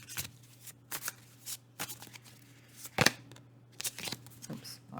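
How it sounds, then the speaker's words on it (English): Cards riffle and snap in several quick, crisp bursts with short pauses between, close by and fairly quiet. "I was shuffling the wrong deck for some reason."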